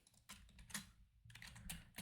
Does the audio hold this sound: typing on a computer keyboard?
yes